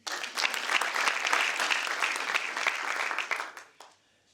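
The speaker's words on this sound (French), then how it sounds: "il mérite des applaudissements" Comedy club audience breaking into loud, dense applause that holds steady for several seconds, then tapers off quickly near the end.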